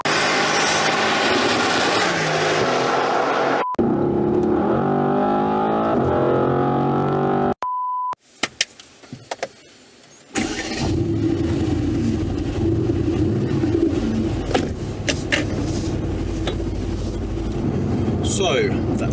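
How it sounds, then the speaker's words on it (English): Mercedes-AMG GT R Pro with a 4-litre twin-turbo V8, its engine roaring loudly and steadily, broken by a short quiet gap midway before the drone resumes and runs to the end. "the AMG GTR Pro, 4-litre twin turbo V8, 585 horsepower, 0-60 in just over 3 seconds"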